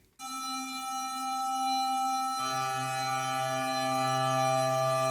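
Raw built-in Omnisphere sound source used as layer B of an ambient pad, a metallic, bright tone with many high overtones that holds steady, then shifts to a lower sustained pitch partway through, heard alone.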